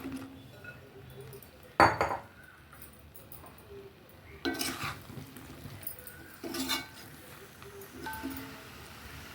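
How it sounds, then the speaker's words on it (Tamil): Cut mushrooms go into a frying pan for a Tamil-style mushroom masala gravy, with a few sharp metallic clinks and scrapes of a utensil against the pan, spaced irregularly over a quiet kitchen background. "இப்போ நம்ம கட் பண்ணி வச்சுருக்கிற மஷ்ரூமை சேர்த்துடலாம்."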